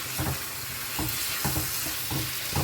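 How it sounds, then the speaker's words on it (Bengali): Pre-fried pointed gourd and potato pieces sizzle in hot oil with grated tomato, giving a dense steady hiss close by, broken by regular scraping stirs about every half second. "এবার আমি যে পটল আর আলুটা ভেজে রেখেছিলাম এর মধ্যে দিয়ে দেবো"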